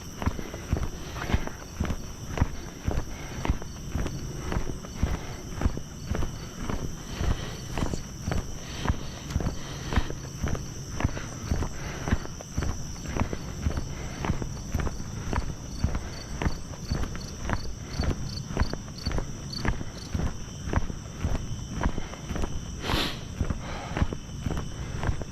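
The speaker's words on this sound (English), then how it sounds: "Sure you can hear all the crickets." Crickets keep up a constant high, thin chorus on a hot, still summer night walk. Steady close footsteps on pavement sound over it throughout, and no one speaks.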